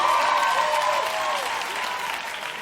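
A crowd applauds and cheers loudly, a dense wash of clapping with a few whoops rising above it.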